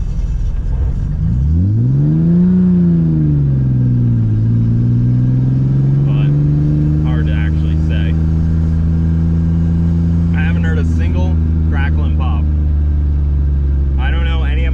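A Nissan S14 car engine revs up, its pitch rising then settling into a loud sustained drone, with brief bursts of talking over it.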